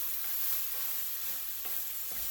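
Pork fried rice being stirred and tossed in a hot pan, a steady sizzle with soft scraping strokes of the utensil recurring every half second or so, close and continuous with no voices.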